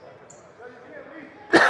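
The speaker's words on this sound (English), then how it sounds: "Apologize, folks, for the coughing." A single sharp cough bursts out at the end, loud and close, after a stretch of low background murmur at a boys' varsity high school basketball tournament game.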